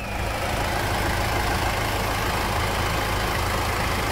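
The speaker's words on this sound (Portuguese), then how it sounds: "Quando você escuta ele, você sabe que estamos falando de um motor Toyota diesel." A 2003 Toyota Land Cruiser Prado diesel engine idles close by, producing a steady, even rumble that holds constant throughout with no voices.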